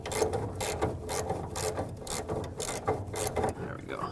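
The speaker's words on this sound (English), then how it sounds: "I'm gonna grab my ratchet, give it a couple turns." A hand ratchet turns a fuel tank bolt on a 2008-2010 Ford F-450 Super Duty during a rear tank replacement. It gives close, rapid rhythmic clicking in repeated short bursts.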